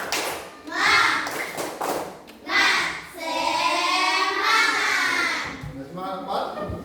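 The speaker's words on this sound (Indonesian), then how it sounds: "kasih dulu tepuk semangat dulu untuk kepada sama-sama" A class in an introductory artificial intelligence lesson does a rhythmic spirit clap, with bursts of group clapping mixed with voices chanting together.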